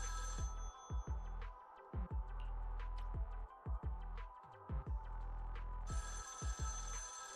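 A video game payphone ringing in repeated electronic bursts, each ring cut by short pauses into a throbbing, mechanical pattern, loud and close with no talk over it.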